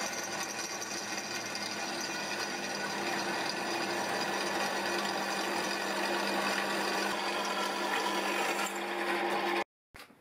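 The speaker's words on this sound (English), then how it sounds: "I open the holes out to the finished size with a normal twist drill" A twist drill whines steadily as it bores through 1.5mm steel plate, a continuous high mechanical drone close up that cuts off abruptly near the end.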